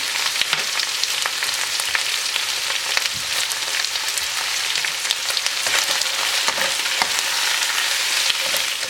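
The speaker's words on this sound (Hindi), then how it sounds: "अब आप इसमें डालेंगे स्प्रिंग अनियन, हाफ कप जितनी, और इसे भी अच्छे से यहाँ पर जो है इसके साथ फ्राई करते हैं 2 मिनट के लिए" Half a cup of spring onion fries with chicken in a pan for Chicken Schezwan, giving a steady, close, broadband sizzle with scattered crackles and occasional stirring clicks throughout, no talking.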